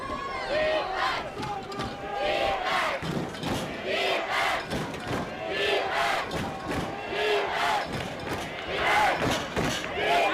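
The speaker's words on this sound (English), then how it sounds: "And now you hear the North Haven crowd getting into it." A home crowd in the stands at a high school football semifinal roars and cheers continuously, with surging shouts and bursts of noise rising and falling over about ten seconds.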